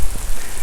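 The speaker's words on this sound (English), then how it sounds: "it's really raining." Rain falling during a walk around Emerald Lake in Sunway City, Johor: a steady, close hiss of drops on surfaces, loud and continuous for a brief moment.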